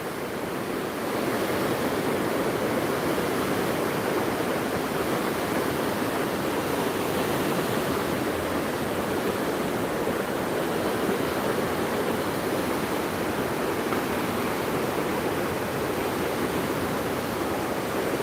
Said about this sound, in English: There is the river.